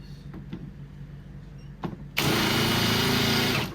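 Angle grinder on a 5.0 V8 NC Ford Fairlane: after quiet shop noise with a couple of light knocks, the grinder bursts on abruptly, a loud, harsh, steady whir held close for over a second.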